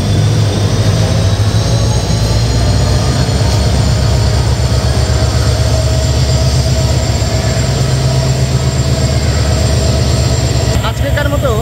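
The Suborno Express rolls into Dhaka's Kamalapur railway station with a loud, continuous rumble and rhythmic clatter of wheels over rail joints, a brief squeal near the end, and a voice speaking over the din.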